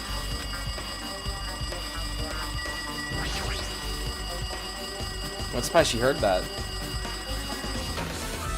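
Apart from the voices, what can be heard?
phone ringing in the video game Danganronpa 2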